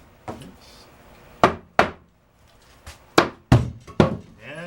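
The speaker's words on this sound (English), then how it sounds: "you just take your mallet, hit the back side of the HoldFast" Sharp wooden knocks from a mallet striking the back of a holdfast on a workbench to release it, several separate blows spaced irregularly with short ringing decays, close and clear.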